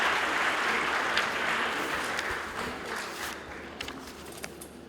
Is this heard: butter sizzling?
no